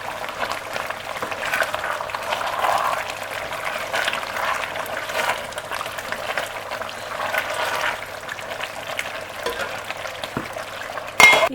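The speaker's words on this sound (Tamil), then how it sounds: "கொஞ்சமாக மல்லி இலை சேர்த்துட்டு நல்லா கிண்டி விட்டுட்டு நம்ம இப்போ தம்மில் போட்டுடலாம்." Macaroni biryani with coriander leaves being stirred in a pot, a steady soft scraping and wet sizzling texture that runs continuously and close, ending with a brief clank, no talk.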